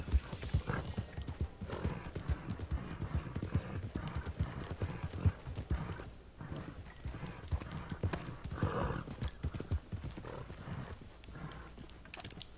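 Rapid hoofbeats of a galloping horse in Red Dead Redemption 2 pound continuously, loud and close, with a brief whinny partway through.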